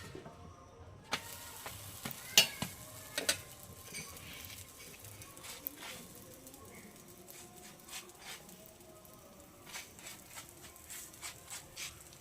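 Aloo paratha fries in ghee on a pan, giving a soft, low sizzle with scattered light clicks and taps of utensil handling, fairly faint and without talk.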